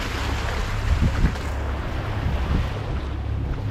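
A sailboat's engine motors along in rough, rainy weather at sea, a steady low drone under heavy wind and wave noise, with no talking.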